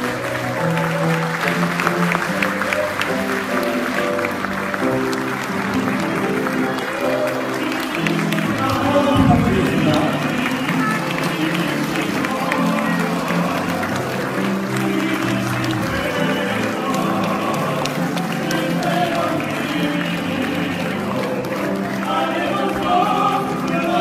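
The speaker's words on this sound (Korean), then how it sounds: "두 사람의 희망찬 출발을 위해 다시 한번 뜨거운 박수로 서원해 주시기 바랍니다." Wedding guests in a hall applaud loudly as the bride and groom march out, steady dense clapping and crowd noise throughout, mixed with festive music and scattered voices.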